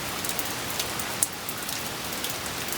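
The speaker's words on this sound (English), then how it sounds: "it started raining like this." Steady rain falling outdoors during Hurricane Beryl, a dense continuous hiss of drops on surfaces with one brief sharper patter, no voices.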